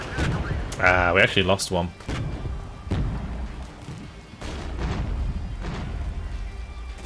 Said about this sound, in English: That mortar fire's hitting nicely though.